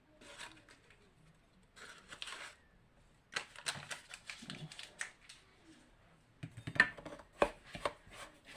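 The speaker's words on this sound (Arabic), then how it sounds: "نمزجو مزيان هاد النواشف مع بعضهم" Hands stir half a kilo of dry semolina with a spoonful of yeast, making soft, intermittent granular rustling and scraping bursts that are faint and close, with brief pauses between strokes.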